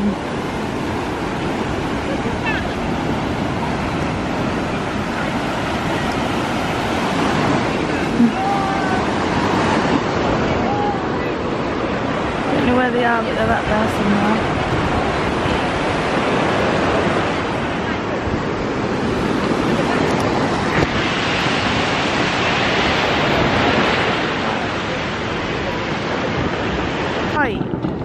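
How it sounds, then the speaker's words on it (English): Ocean surf washing ashore at Benidorm, Spain, a steady broadband roar of waves that swells and eases over the whole stretch, with wind and distant traffic-like noise mixed in and people talking nearby. "Listen to the sound of the ocean."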